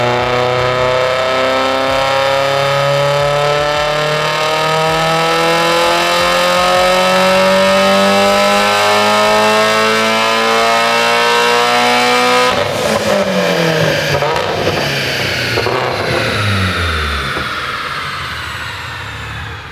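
A tuned Mitsubishi Evo X engine revs loudly and climbs in pitch, then drops and rises again, a close, aggressive roar without any talking.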